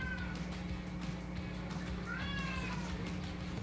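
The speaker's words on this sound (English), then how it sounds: "So the cat's not happy." A cat meows twice indoors, a rising then falling mew followed by a longer complaining one, fairly faint over a steady low hum.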